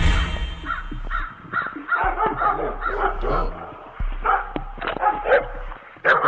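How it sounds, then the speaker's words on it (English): Two protective dogs bark repeatedly as they charge at a sheriff's deputy who jumped a gate, their loud overlapping barks mixed with voices and background commotion. "Immediately, 2 dogs charged at the deputy circling around him"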